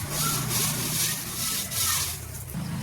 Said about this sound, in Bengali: খড় দিয়ে ঘষে নিচ্ছে ভালো করে, বালিটা থাকবে নাহলে কিচমিচ করবে